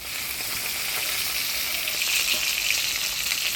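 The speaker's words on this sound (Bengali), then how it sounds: "এবার মাছটা ভেজে নিই" Bhola fish coated in turmeric and salt frying in hot oil, a steady dense sizzle holding evenly throughout with a slight swell toward the end, no voices.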